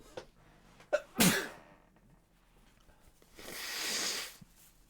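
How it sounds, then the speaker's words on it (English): A single loud sneeze bursts out near the mic, preceded by sharp inhaling catches and followed a couple of seconds later by a long breathy exhale or sniff. "Oh, I gotta sneeze."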